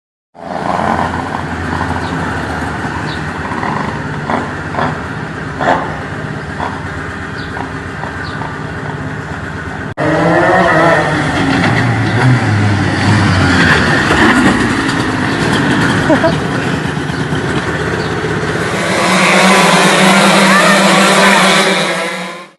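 A rebuilt go-kart engine runs loudly throughout, shifting in pitch as it revs and idles, then grows into a harsher, brighter roar near the end.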